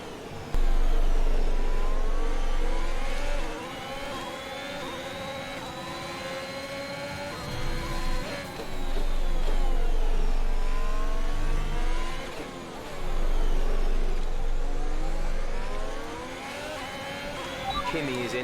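Formula 1 race cars in the F1 2021 video game scream through gear changes at the French Grand Prix, engine pitch climbing and dropping in repeated sweeps, with other cars close by and a player talking over them.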